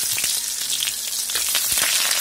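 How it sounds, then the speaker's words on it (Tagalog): Onion sizzles and crackles in hot oil in a heated pan, a dense continuous frying hiss with small pops, close and loud with no talking. "yung 5 tablespoon of oil na inilagay natin sa heated pan. And since mainit na siya, ilalagay na natin yung onion."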